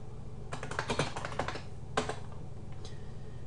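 DOS commands get tapped out on a computer keyboard for a virtual Packard Bell Legend 406CD setup, with quick clusters of close, crisp keystrokes, a pause, another short burst and a final lone key press; no talking.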